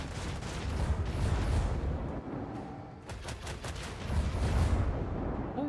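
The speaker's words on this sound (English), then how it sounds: "It blew up right beside me." Explosion erupting right beside a ship during space combat in Warhammer 40k: Rogue Trader, a sustained loud roar of blasts and crackling rumble with several sharp bursts, no talk.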